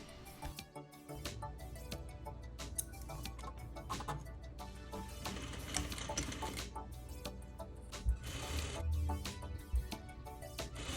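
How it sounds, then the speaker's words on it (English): A sewing machine stitches the waistband of a ballerina skirt, running in a steady rapid mechanical patter with no pauses, close and moderately loud, with no voices over it. "we're going to sew right at the tip of the previous stitch and around the tail of the waistband"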